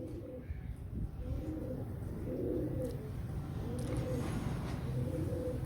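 Pigeons of a fancy show breed coo close by in a repeated soft, low rolling pattern over a constant hum of background noise.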